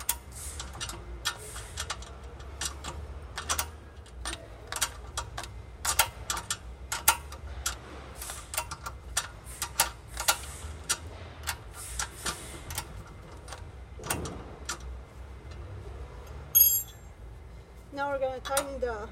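Guide bolts tightened on a Sunny SF-RW5612 rowing machine, a close series of quick ticking clicks from a ratchet tool, irregular and fairly soft, with a few metallic clinks near the end.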